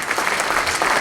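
An audience at a 7th and 8th grade winter band concert applauds two high school students, a short burst of dense, steady clapping.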